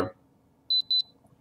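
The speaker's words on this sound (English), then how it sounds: "That's kind of loud. Sounds like a fire alarm." A video game fire alarm gives two short, high electronic beeps in quick succession, clear and fairly loud above a faint low background hum.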